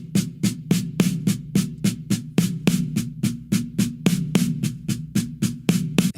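A drum fill: a six-stroke roll played as even sixteenth-note triplets, a steady stream of about twenty crisp, close stick strokes with regular accents over roughly six seconds, alone with no talking.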